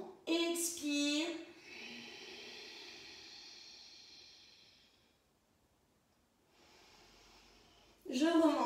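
Long breathy exhale with a soft hiss during a yoga abdominal exercise, heard close after a short burst of talk and followed by quieter breathing before speech resumes.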